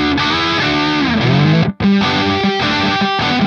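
A Revv Generator MKIII amp pushes loud, saturated distorted electric guitar chords and sustained notes, with a brief cut in the middle.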